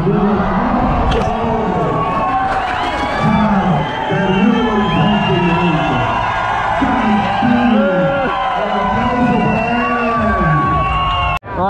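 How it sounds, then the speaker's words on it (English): Loud, continuous crowd noise at an urban MTB downhill best-trick event in Mexico, with cheering, whoops and shouts rising and falling throughout, close and dense, ending abruptly. "Crowd's going off."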